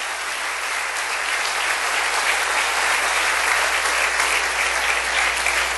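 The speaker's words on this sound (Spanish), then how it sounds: "Dale un aplauso al Rey bendito." Steady, dense applause from a large church congregation, loud and continuous throughout, with no talking over it.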